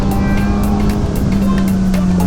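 A tuned 2017 Kawasaki ZX10R with flashed ECU and quick shifter, ridden at steady speed, its engine droning loud and close with constant wind rush and no talking.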